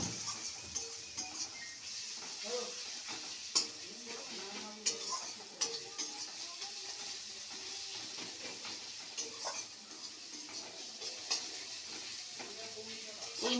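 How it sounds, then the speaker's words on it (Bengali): Onions sizzle and fry in a pan for a fish curry, a steady close crackle with occasional clinks and scrapes of stirring running throughout. "পেঁয়াজটা ভাজা ভাজা হোক"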